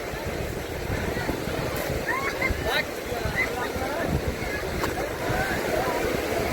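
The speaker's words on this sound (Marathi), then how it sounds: "या लाटा, सुंदर अशा लाटा." Sea waves rolling onto Nagav beach at Uran, Navi Mumbai, make a steady, full roar of surf and rushing water throughout, with faint voices of people on the beach mixed into the wash.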